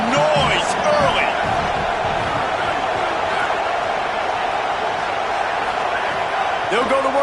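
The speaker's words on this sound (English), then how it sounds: "This crowd bringing the energy and noise early." Roaring stadium crowd in an NCAA college football video game, a loud, steady wash of cheering and noise that runs throughout, with announcer-style commentary under and over it.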